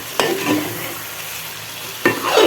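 Stirring and sautéing in a pan: a utensil scrapes and clatters twice against the pan, with a soft, steady sizzle underneath and no talking.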